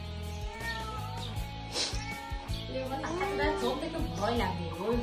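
A small cat meows several times close by, its cries rising over steady adult talk and a voice in a home setting.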